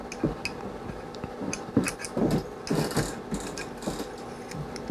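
Parts of a Luger P08 pistol sliding together along internal rails, heard as a close series of small metallic clicks, scrapes and rattles spread across the clip.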